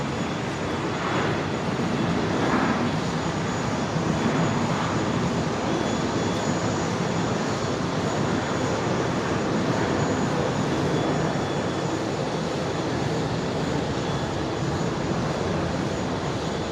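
Airliner engines roaring on take-off from runway 01 right at Brisbane airport, a steady loud broadband rumble holding throughout with no talk.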